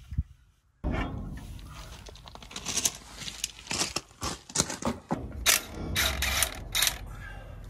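Ratchet wrench torquing U-bolt nuts on a trailer axle: rapid, rhythmic clicking ratchet strokes in close, uneven bursts, fairly loud and nearby with no talking over it.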